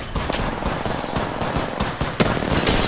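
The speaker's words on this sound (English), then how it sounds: "The enemies are shooting at me." Rapid enemy gunfire in a shooter video game, a steady stream of close, sharp shots crackling continuously with a louder crack near the end.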